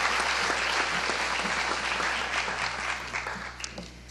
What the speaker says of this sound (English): a round of applause, please, for all of our new faculty as a welcome